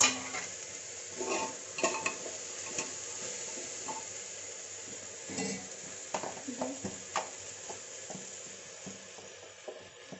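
Potatoes and carrots sizzle steadily in a pan for khichdi, with a continuous fry hiss broken by repeated scraping stirs and light clinks of a utensil against the pan, close up and without talk.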